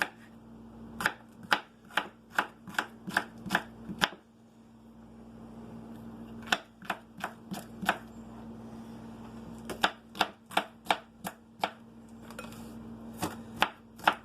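A knife chopping a small piece of onion into little cubes on a cutting board, crisp rapid knocks in quick bursts separated by short pauses, close and clear over a faint steady hum.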